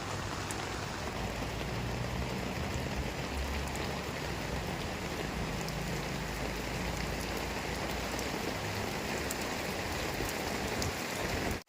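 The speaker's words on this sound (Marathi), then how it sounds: "पाऊस बघा कसा चाललाय मस्त" Heavy monsoon rain falls in a dense, steady roar, close and unbroken for the whole stretch, with no voices over it.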